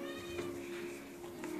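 A neutered male cat gives a single drawn-out meow close by, a clear tonal cry over faint background noise.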